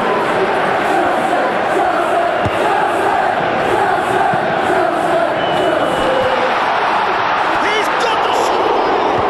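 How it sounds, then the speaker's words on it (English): Stadium crowd in a Premier League football video game between Chelsea and Bournemouth, a dense constant roar of spectators held at a steady loud level, with commentary speech mixed in. "the crowd have tried to spark some excitement, but to no avail"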